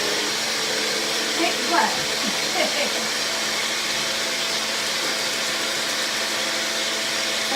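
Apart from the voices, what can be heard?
electric kitchen grinder running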